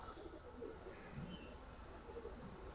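Giribaz and coloured pigeons coo in low, soft murmurs at a pigeon collection, a steady hum of overlapping calls without clear gaps, with faint chirps and a quiet background voice.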